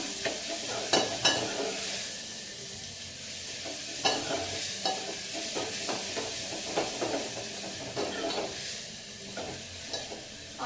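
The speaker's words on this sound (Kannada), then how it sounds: "ಆನಿಯನ್ಸ್ ಒಂದು ಸ್ವಲ್ಪ ಹೊತ್ತು ಬೇಯಲಿ" Onions sizzle and fry steadily in a pan while being stirred, with scraping clicks and soft clatter recurring through the steady hiss, close and fairly loud with no voices.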